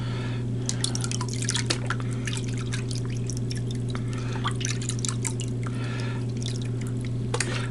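Water and black sand sloshing and trickling off the lip of a gold pan, with scattered drips and small splashes over a steady low electrical hum, close by and moderately quiet, no talking.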